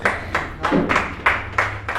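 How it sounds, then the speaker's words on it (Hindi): Several sharp hand claps ring out in a loose rhythm, like a small audience applauding briefly at a Hindi poetry recital. "जोरदार तालियां"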